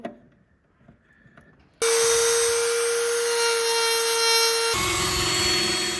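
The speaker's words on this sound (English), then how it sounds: "I decided to use the Dremel to carve out a little area, an indentation for that brake screw" A Dremel rotary tool grinds into material to carve a small indentation for a brake screw on a 1968 Mustang, starting abruptly as a loud, steady high-pitched whine that drops slightly in pitch near the end, close and continuous.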